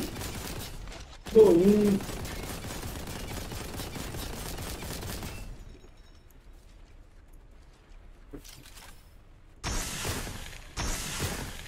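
Rapid, sustained gunfire from the video game Warhammer 40,000: Boltgun pounds steadily for several seconds, then returns in shorter bursts later, with a voice speaking briefly.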